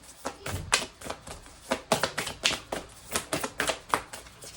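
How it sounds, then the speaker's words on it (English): Tarot cards are handled and drawn from a deck, making a quick series of crisp, close papery clicks and flicks in an irregular rhythm, with no talking. "I'm gonna pull one more card from here"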